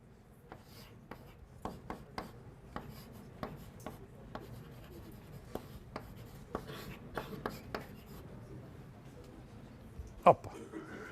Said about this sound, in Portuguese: Então eu vou escrever assim.